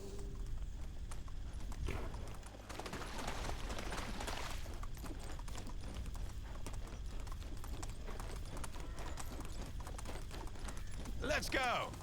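Horse hooves clip-clop steadily while riding in the video game Medieval Dynasty, a continuous trotting rhythm under game ambience with a voice talking over it throughout.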